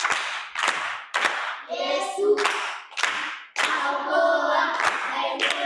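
An audience claps in rapid rhythmic bursts during a Swahili church or classroom talk, with sung or chanted voices and talk woven through the clapping.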